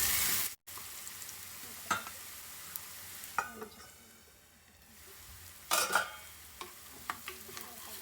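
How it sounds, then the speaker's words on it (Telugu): Finely chopped onions frying in hot oil with a pinch of salt and turmeric, a steady low sizzle broken by several scraping stirs of a spoon against the pan, close by and with no talking. "ఇప్పుడు ఇదే ఆయిల్లో సన్నగా తరిగిన ఆనియన్స్ కూడా వేసేసి ఒకసారి బాగా కలుపుకొని"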